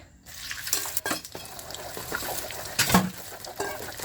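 Scrambled egg being stirred in a pan, with soft sizzling, scraping and liquid stirring sounds, a couple of louder clinks of utensil against the pan, close and alone with no talk.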